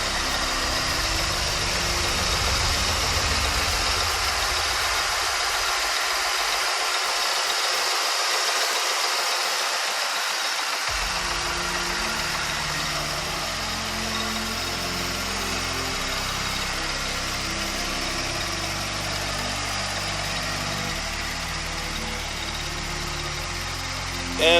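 A 2003 Mercury Grand Marquis engine idles steadily with a low, even rumble and slight rattle, close and continuous, with a brief dip in the low end partway through.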